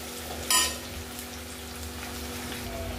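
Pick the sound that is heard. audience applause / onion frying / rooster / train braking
onion frying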